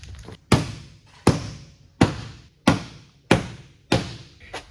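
Six heavy hammer blows on a Nissan 240SX's body metal at a steady, unhurried pace, each a loud close clang-thud with a short ringing decay.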